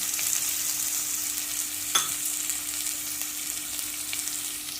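Millet and carrot dry-roasting in a pan, a steady close sizzle and hiss with one brief scrape of a utensil midway.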